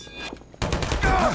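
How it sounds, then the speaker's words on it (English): Automated turret in the video game Half-Life firing a rapid burst of gunshots, sharp and loud, starting abruptly after a brief quiet moment and continuing to the end. "Be careful. It's a turret."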